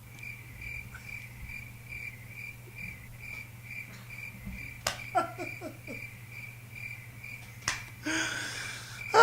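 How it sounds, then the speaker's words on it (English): A cricket chirping sound effect, a steady high, rhythmic trill that runs continuously throughout, with a few brief louder clicks and noises breaking in near the middle and end. "Oh, I do have my crickets."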